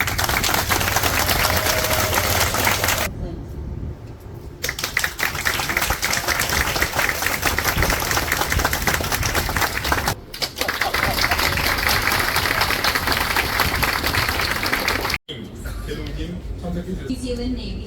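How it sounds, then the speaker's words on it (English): Dense, loud applause fills a naval shipboard reception, sustained crowd clapping with a couple of brief dropouts partway through. "A huge round of applause."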